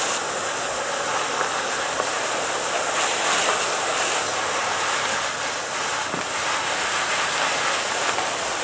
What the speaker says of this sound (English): let me go ahead and get the water hose, and we'll go ahead and spray this down.